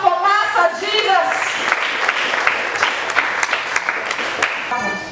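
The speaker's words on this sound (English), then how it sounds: "Clap for Master Jesus." A church congregation bursts into applause for Jesus, a dense, lively clapping from many hands that follows a few words from a speaker and continues steadily and loudly to the end.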